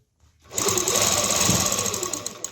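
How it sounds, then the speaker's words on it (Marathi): Sewing machine running steadily as it stitches fabric with elastic, a loud continuous mechanical whir that starts after a short silence and holds to the end. "तर इथे सुद्धा आपण त्याच पद्धतीने शिलाई करायची आहे"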